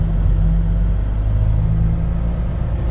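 A truck engine idles steadily at close range for a few minutes' warm-up before an early departure in Denmark, a continuous low rumble with no revving and no voices.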